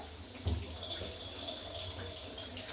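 Steady running tap water splashing into a sink as potatoes are washed, with a brief louder splash near the start and continuous rushing flow throughout.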